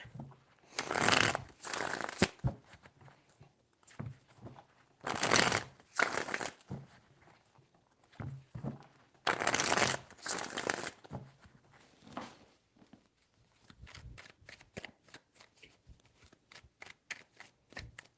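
Three bursts of tarot card shuffling, each a crisp riffle lasting about a second, followed by softer scattered card handling and taps.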